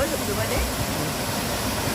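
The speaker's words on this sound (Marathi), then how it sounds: "पाण्याचा मोठा आवाज येतो" Loud, steady rushing of a monsoon-season waterfall near an ancient Krishna temple at Gokul Shirgaon, a dense continuous roar heard close by with no pauses, with children swimming nearby.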